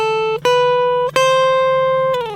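Electric guitar picking single notes of a minor scale on the first string, three sustained clean tones stepping upward with sharp attacks and long ringing decay, loud and close with nothing else audible.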